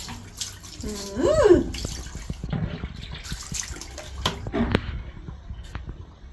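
A cat is being wetted down with water during an indoor bath, with splashy bursts of running water, the loudest early on, then scattered drips and small splashes, and a voice faintly in the background.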